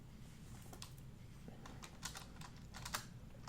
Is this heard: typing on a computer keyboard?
yes